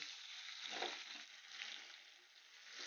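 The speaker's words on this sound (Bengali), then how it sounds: "সেই চিংড়ি মাছটা আমি এখন তেলের মধ্যে দিয়ে দিচ্ছি" Shrimp coated in turmeric and salt sizzling in hot oil, a steady bright crackle throughout with brief spitting flares, close and continuous with no talking.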